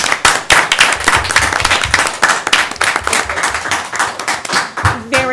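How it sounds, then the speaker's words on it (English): Steady applause from the audience at an Ellsworth budget meeting, honoring the valedictorian and salutatorian: dense, continuous clapping from many hands that holds for several seconds, with a few faint voices mixed in. "Can we just give a round of applause to our valedictorian and salutatorian,"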